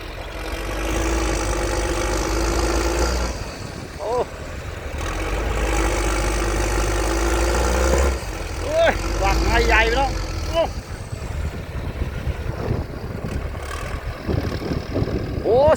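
A New Holland tractor engine idling loudly up close, a steady low rumbling exhaust throb, with a voice talking briefly partway through.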